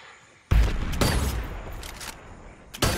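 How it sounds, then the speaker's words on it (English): A grenade blast and gunfire in the video game Predator: Hunting Grounds, starting with a sudden loud boom, followed by a sustained noisy rumble and scattered shots, then another sharp burst near the end. "Grenade out."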